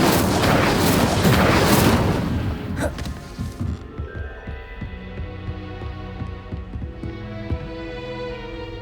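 A fire spell is cast in Hogwarts Legacy: a loud whooshing burst of flame that fades into a deep rumbling hum and low throbbing booms.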